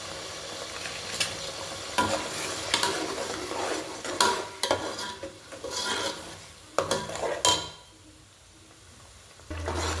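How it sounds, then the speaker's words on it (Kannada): Ground masala paste fries in a pan for mutton biryani: repeated scraping spoon strokes over a steady sizzle, close and clear, with a quieter lull near the end. "ಅದೆಲ್ಲ ಇವಾಗ ಹಾಕ್ಬಿಟ್ಟು ಮೇನ್ ಇವಾಗ ಚೆನ್ನಾಗಿ ಫ್ರೈ ಮಾಡಬೇಕು"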